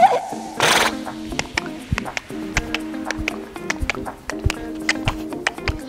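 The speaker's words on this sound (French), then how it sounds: "Donc lui c'est un poney." A pony at a riding stable whinnies at the start, followed by a burst of noise and then sharp, irregular taps and knocks over a low tonal drone, close by.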